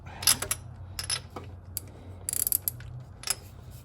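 Short bursts of metallic ratcheting from a socket wrench worked on a 60-year-old engine, quick clicking runs separated by pauses, close and fairly quiet, with no talking.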